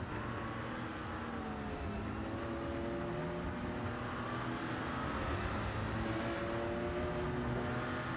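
A Shelby race car engine drones at Sebring in a racing video game, its pitch rising and falling as it shifts through gears, steady and moderately distant.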